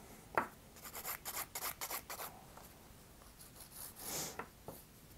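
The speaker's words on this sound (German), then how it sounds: "Hier in den Ecken feile ich mit der Feile so, das heißt ich greife sie so und ziehe sie dann nach unten weg" A nail file works the corners of a gel or acrylic fingernail in a quick series of short, soft rasping strokes, close up and quiet, with a few more scattered passes afterward.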